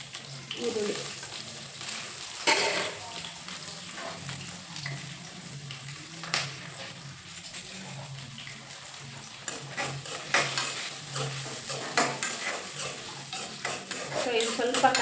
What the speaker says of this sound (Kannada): ಸೊ ಇದು ಸ್ವಲ್ಪ ಕಲರ್ ಚೇಂಜ್ ಆಗೋವರೆಗೂ ಹುರ್ಕೋಬೇಕು.